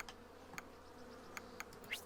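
Bees buzzing in the Hive Time colony simulation game, faint insect drone with several short, brighter buzz bursts and ticks over a quiet steady background.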